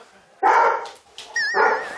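A dog barks in short, loud bursts indoors after being cornered by its owner, with a pause between barks and people talking nearby.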